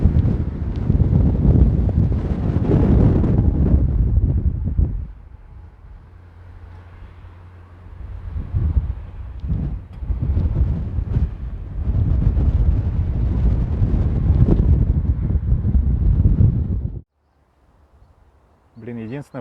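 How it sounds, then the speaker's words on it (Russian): Strong wind in Ufa near the Salavat Yulaev monument roars and buffets straight into the microphone in loud, low gusts, easing briefly midway, then cutting off abruptly near the end. "Ветер сильный."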